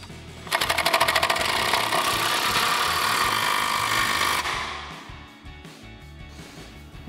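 An impact wrench with a 16 mm socket drives a bottom bolt on a Jeep Wrangler JL spare tire carrier, giving one loud, rapid hammering burst of about four seconds, then quieter handling sounds.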